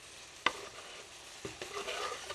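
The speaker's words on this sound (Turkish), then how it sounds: "Şimdi sarımsağımızı ekliyoruz." Chopped garlic goes into a hot pan for a Turkish shallot chicken stew and is stirred, a sharp clack of the utensil followed by a soft steady sizzle and scraping strokes.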